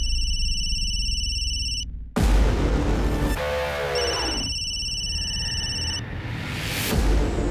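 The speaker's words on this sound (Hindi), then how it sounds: "उस दिन भी फ़ोन बहुत बज रहा था।" A telephone rings in bursts with a loud electronic tone, stops abruptly, and then rings again after dramatic booming stingers and a pulsing sweep. No one speaks.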